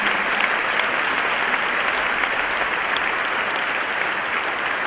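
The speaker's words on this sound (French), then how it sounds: "Mettez-vous debout, s'il vous plaît, pour que tous nous puissions vous applaudir." A church congregation breaks into loud, sustained applause, dense and even, filling the room for several seconds without a pause.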